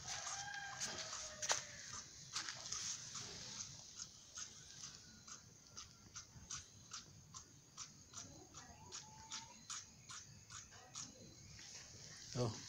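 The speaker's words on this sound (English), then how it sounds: "Hear the sound that is coming from the jake, from the male. It's making that sound." Male turkey calling during mating, repeated short bursts at a steady rhythm, close by, with other fowl and background noise; a person talks now and then.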